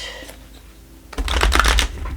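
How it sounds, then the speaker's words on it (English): A deck of oracle cards is shuffled by hand: a short, quiet pause, then a close, brisk burst of riffling and flapping card edges lasting about a second before tapering off. "I usually don't like to do a lot of shuffling on camera"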